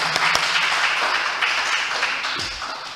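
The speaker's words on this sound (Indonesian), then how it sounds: "Beri tepuk tangan untuk beliau." Applause at a national university webinar as a new head of the Arabic language education program is honored. Steady, even clapping continues throughout, with a few sharper claps near the start.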